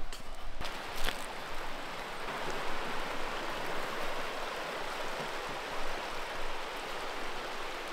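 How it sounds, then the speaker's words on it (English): A stream's current rushes steadily through a rocky section of water in fern-covered bush, a continuous close wash of flowing water with a couple of brief knocks at the start. "There is a fair bit of current running through this section,"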